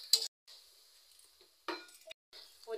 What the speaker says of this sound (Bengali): মশলাটা একটু ভালো করে নেড়ে দিতে হবে মশলাটা, না হলে মশলা গন্ধ করবে।